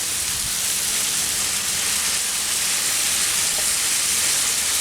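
Steak sizzles steadily on a Pit Boss 3-burner gas griddle, a dense, constant hiss of frying meat heard close up with no voices over it.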